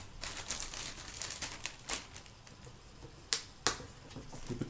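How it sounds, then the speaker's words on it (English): A plastic bag is opened and handled with a pipe inside, giving close, crisp crinkling and rustling with several sharp snapping crackles. "Open the bag, put the pipe in the bag"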